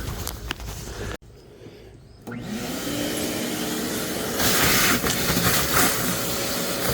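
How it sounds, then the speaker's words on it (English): Loud, continuous roar and hiss of a vacuum cleaner used to clean out the cab of a 1969 C20 dump truck, briefly dropping in intensity before surging back steadily. "I'm gonna grab the vacuum"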